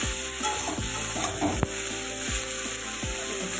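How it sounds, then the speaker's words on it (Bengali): Cauliflower fries in a pan under a constant close sizzle, with repeated sharp scraping knocks of a spatula stirring the pieces at a regular pace. "ভালো করে ফুলকপিটা ভাজা হবে"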